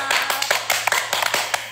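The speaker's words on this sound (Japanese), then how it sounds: "拍手が大きいね" Audience applause rattles along in a quick series of sharp claps, close and lively, bursting repeatedly across the short stretch.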